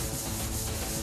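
Sandpaper rubbing a loess clay bed board with a steady, continuous rasping scrape, close and even throughout, with no voices.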